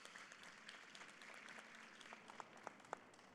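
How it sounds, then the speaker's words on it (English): A conference forum audience gives a quiet round of applause, soft, distant clapping that stays steady and then ends with a few sharper claps. "A round of applause."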